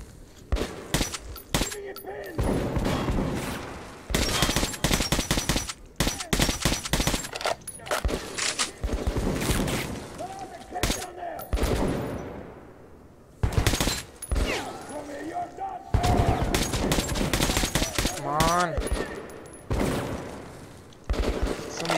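Rapid bursts of gunfire in the video game Metro 2033 Redux, repeated sharp blasts across the whole stretch with short gaps, loud and close, with a voice talking at times between shots.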